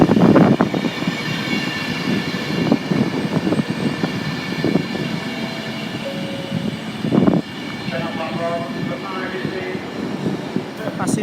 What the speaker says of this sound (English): Passing through now is a slower Hardendale service. 66623, it's a blue one. Blue one. Blue class 66